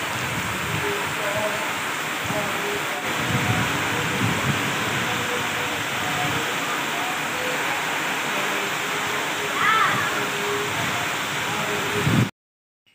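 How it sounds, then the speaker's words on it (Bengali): Heavy rain that has started suddenly, a dense steady broadband roar holding level throughout and then cutting off abruptly near the end. "দেখো বন্ধুরা, হঠাৎ করে কীভাবে বৃষ্টি শুরু হয়েছে। বৃষ্টির আওয়াজটা শুনলে তোমরা বুঝতে পারবে কী পরিমাণে বৃষ্টি পড়ছে।"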